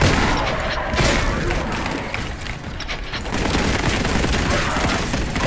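Dense, continuous volley of rapid bolt gun fire and booms in the video game Warhammer 40,000: Boltgun, loud and close, blending into a constant roar with faint voices beneath.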